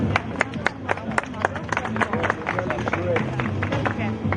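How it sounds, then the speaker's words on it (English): Loud, dense applause from a crowd at a motor racing event in the pit lane, steady sharp claps with crowd babble and talk underneath throughout. "Loud round of applause."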